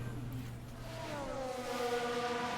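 An F1 Manager 22 race car spinning out, heard as a steady engine drone whose whine bends and climbs. It is moderately loud and stays continuous, with no voices over it.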